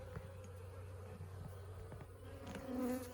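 Swarm of honey bees droning steadily in a bee yard during hive work, a continuous close buzz with a low hum and brief louder swells, no talking.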